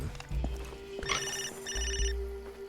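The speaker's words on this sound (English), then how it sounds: "Phone ringing." In-game telephone in Far Cry 2 rings twice in quick electronic trills over a steady low game ambience and rumble, moderately loud and close.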